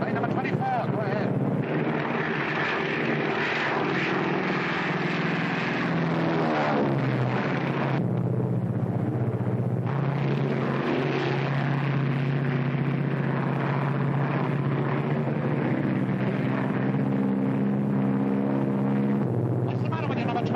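Propeller engines of a 1943 military plane drone steadily and loudly throughout, with a low constant rumble and broadband roar, while voices speak over them.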